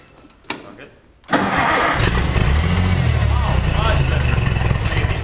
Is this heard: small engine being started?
yes